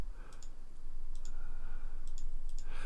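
A computer mouse clicks while Arma 3 is being played: a few quick double clicks, crisp and fairly faint, spaced irregularly over a quiet background hum.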